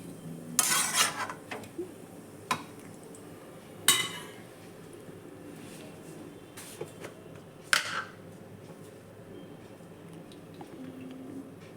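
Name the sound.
lid placed on a pot of cooking cabbage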